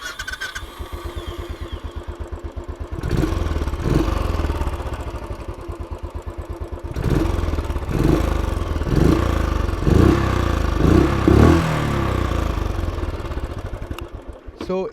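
A motorcycle engine cranks and fires up, then settles into a thumping, Royal Enfield-like exhaust note with repeated revs, loud and close, with a person talking over parts of it.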